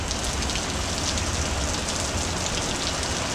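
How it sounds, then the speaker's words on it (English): Steady heavy rain pours down on a city street block in a dense, even hiss of drops that lasts the whole stretch with no other sounds. "when it comes to rain like this right here"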